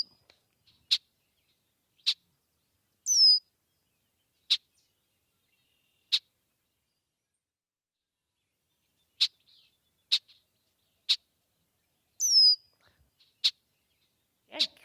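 Sharp, isolated bird chirps ring out one at a time with long silent gaps, plus a couple of brief twittering phrases, clear and fairly close.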